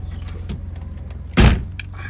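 Power sunroof on a BMW E46 M3 closing over a steady low idling hum, with faint mechanical whirring before a single loud, close thud as it seats shut, then the idle drone continues.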